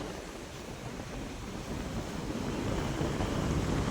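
Sea waves washing onto the shore near a temple coast, a continuous broad rushing roar that swells slightly louder toward the end, with wind buffeting the microphone and no voices.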